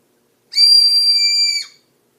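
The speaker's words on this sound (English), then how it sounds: "Wow, that is a real good whistle." A grape ramune whistle candy blown into a single loud, steady shrill whistle lasting just over a second, close up and alone, ending in a short falling tail.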